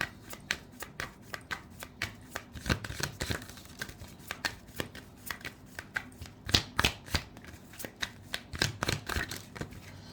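Tarot cards being shuffled close up, a steady run of quick riffling flutters and soft slaps repeating in irregular bursts with no talking over them.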